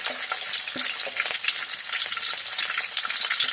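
Green chillies frying in hot oil for a soyabean chilli recipe, a dense close sizzle with small pops and spatula taps, steady throughout with no talking.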